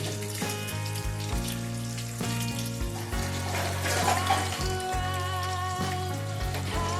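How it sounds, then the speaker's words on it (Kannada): Sliced onions sizzle in a hot pan with a steady, close, hissing crackle that runs throughout, under a backing of music. "ಈ ರೀತಿ ಸ್ಲೈಸ್ ಆಗಿ ಕಟ್ ಮಾಡಿ ಹಾಕ್ಕೊಂಡು ಸ್ವಲ್ಪ ಬಣ್ಣ ಬದಲಾಯಿಸೋವರೆಗೂ ಫ್ರೈ ಮಾಡ್ಕೊಳ್ಬೇಕಾಗತ್ತೆ"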